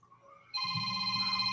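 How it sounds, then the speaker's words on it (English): A phone starts ringing after a quiet moment, giving a steady, bright electronic ring that continues to the end, close and clear with no talking over it. "And my phone is ringing."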